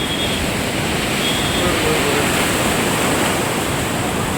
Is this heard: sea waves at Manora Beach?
yes